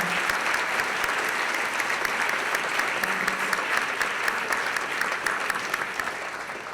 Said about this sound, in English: Let's hear another round of applause for both our 2020 Justice in Action Award recipients, Bill Lee and Viet Thanh Nguyen.